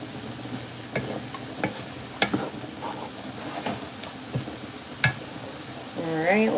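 Onions fry in a pan on a home kitchen stove, a soft steady sizzle broken by occasional sharp clicks and scrapes of stirring, with a brief voice rising near the end.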